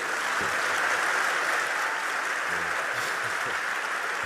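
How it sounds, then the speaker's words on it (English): Audience applause at an on-stage interview at the 2024 Cannes creative festival, a steady dense wash of clapping filling the room and sustained at even loudness throughout, with no voices over it. "one more round of applause"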